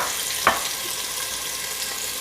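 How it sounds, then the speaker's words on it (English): Onions and green peppers cooking in about two tablespoons of oil in a pot, a steady broadband sizzle with one brief sharp clink or stir sound early on, no talking. "I'm gonna put my onions and green peppers in there to cook a little bit"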